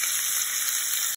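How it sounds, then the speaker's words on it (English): Bacon and smoked sausages sizzle side by side in a frying pan while southern fried cabbage is being made, a steady, close, bright crackling hiss that holds evenly throughout with no talk. "we're gonna start frying our smoked sausages right on the side of the bacon"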